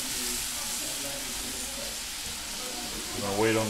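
An onion frying in a pan, a quiet steady sizzle, with a faint voice heard briefly near the end.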